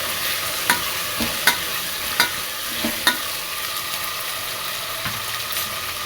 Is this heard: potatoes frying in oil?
yes